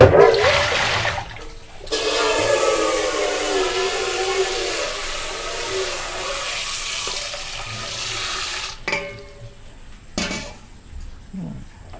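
Water from a kitchen tap runs steadily over noodles being rinsed before blanching for stir-fried Chainat mee sua with pork belly, a continuous splashing gush lasting several seconds, then cutting off into brief clatters and handling sounds.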